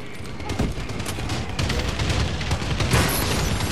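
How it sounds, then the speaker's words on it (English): Dense, continuous barrage of explosions and gunfire from a friendly bombing run in Call of Duty on the Detroit map, loud and sustained across the whole stretch with overlapping booms. "Friendly bombing run incoming!"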